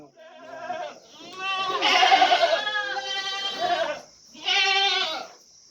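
Several goats bleat loudly and close by on an Indian goat farm, with long wavering cries in bursts separated by short pauses.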